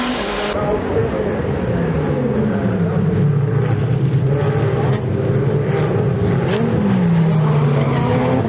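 Continuous roar of Ferrari Challenge race cars passing on the Monza track, rising and falling in pitch, loud and sustained under faint commentary.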